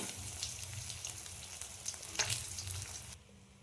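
Bay leaves and potatoes frying in oil, a soft steady sizzle with a few brief crackles and stirring noises that cuts off near the end. It sounds close and quiet, with no talk.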